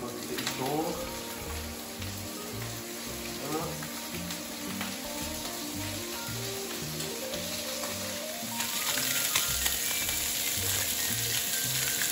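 Fish fillets, skin side down, fry in a restaurant pan for an Alsatian fish choucroute, a steady, close sizzle with faint scraping and clinks throughout, growing slightly louder toward the end.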